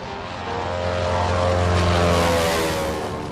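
A propeller-driven biplane used for wing walking roars loudly and steadily as it takes off, its engine drone swelling and holding strong with no voices over it.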